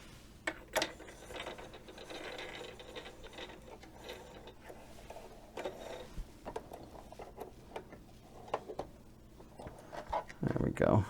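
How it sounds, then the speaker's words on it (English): A sewing machine with an overlock foot is threaded by hand, giving soft clicks, ticks and faint mechanical rattles close by, with occasional handling noises. "So all I need to do is get my machine threaded."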